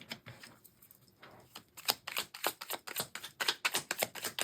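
Tarot cards are shuffled up close in a quiet room, a quick flurry of soft papery riffling and light clicking flicks that grows busier and denser toward the end.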